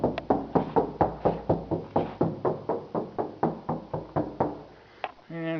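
Knuckles rap about fifteen times at a steady rhythm on the all-metal driver's door of a 1957 Chevy, each knock a close, solid hollow thud, ending in a brief tonal ring.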